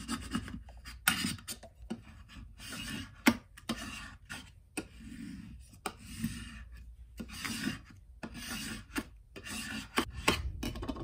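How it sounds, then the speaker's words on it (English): A smoothing tool rasps in repeated strokes across a wooden board for a homemade tic tac toe game. The scraping is close and bursty, with short gaps and small ticks between passes. "Use the smoothing tool again to"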